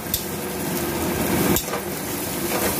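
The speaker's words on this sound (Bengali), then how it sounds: "পেঁয়াজটা আমি খুব বেশি ভাজবো না" Onions fry in a pan while making cauliflower chicken curry, a steady close sizzle with a brief stirring clatter partway through.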